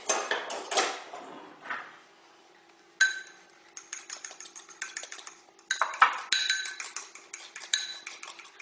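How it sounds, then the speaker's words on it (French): Egg yolks beaten in a bowl with a utensil, giving close clinking and tapping against the bowl in quick irregular bursts, with quieter pauses between. "je vais battre mes jaunes d'œufs."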